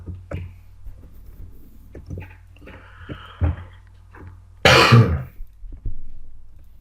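A man coughs and clears his throat several times close to the microphone, with scattered dry hacks and throat rasps, one loud harsh cough standing out, amid faint background sounds.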